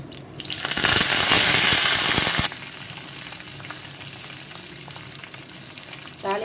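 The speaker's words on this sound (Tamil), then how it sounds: "கடுகு உளுத்தம் பருப்பு நல்லா பொரியும் போதே கொஞ்சமாக பெருங்காயத்தூள் சேர்த்துக்கலாம்" Mustard seeds and urad dal splutter in hot sesame oil for a tempering, with curry leaves added, for an Andhra kara chutney; a loud burst of crackling sizzle eases into a quieter, steady fry.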